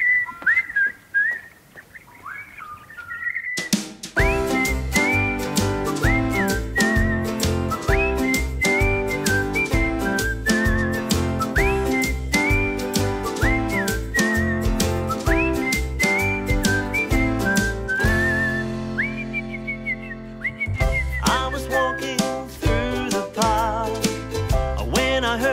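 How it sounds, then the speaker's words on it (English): A person whistles a lively melody with clear, rapid pitched notes, loud and continuous over an accompanying music backing that enters after a brief solo whistled opening. "Let's go find them and whistle a song together."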